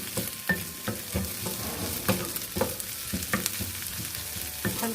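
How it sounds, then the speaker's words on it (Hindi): Green chili, ginger and garlic paste frying in a pan, giving a continuous close sizzle broken by regular scraping strokes of a spatula stirring every half second or so, with no talking. "इसको बस सौते करेंगे"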